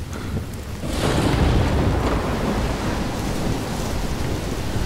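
A thunderstorm with heavy rain in the video game Life is Strange, set in Oregon: steady loud rain and wind noise, then a deep rolling thunder swell about a second in that keeps rumbling under the downpour.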